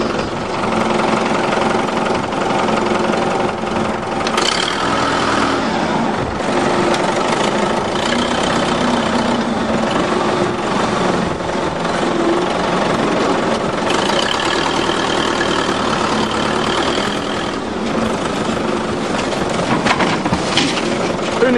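A caravan's engine runs steadily after being turned over, a continuous rough, low idling rumble with some clattering texture throughout, close by.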